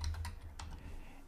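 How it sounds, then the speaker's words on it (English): A few quick keystrokes on a computer keyboard as a password is entered, crisp clicks clustered at the start then a lone tap, close up over a low steady hum. "let me take this URL and type my password"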